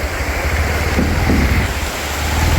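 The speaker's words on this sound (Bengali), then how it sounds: "হ্যাঁ বৃষ্টি" Steady, dense rain pours down without a break, a loud continuous hiss close by with a low rumble underneath and no voices.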